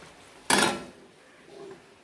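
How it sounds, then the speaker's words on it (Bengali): A lid set onto a cooking pot, one sharp metallic clang up close that rings out briefly, followed by a faint, soft settling rattle a moment later. "তো আমি এবার ঢাকা দিয়ে দিচ্ছি।"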